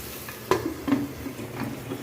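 Egg biryani mixture with turmeric being stirred in a pressure cooker, giving a few soft scraping knocks of a spoon against the metal pot over a faint sizzle.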